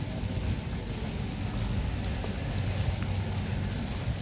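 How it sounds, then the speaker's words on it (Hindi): Steady rain falls outdoors as a dense, even hiss that holds at the same moderate level throughout, with no voices. "कहीं कहीं पे बारिश हो रही है"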